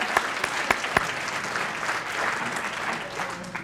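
A crowd at a Martin Luther King Jr. birthday celebration applauds the mistress of ceremonies, with a few sharp near claps at the start giving way to a full, sustained wash of clapping and faint voices underneath.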